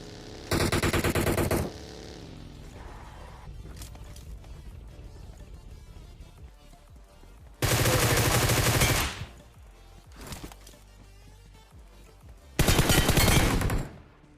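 Loud machine-gun bursts from the BGMI battle royale video game arrive in three separate volleys, with quieter game sounds between them.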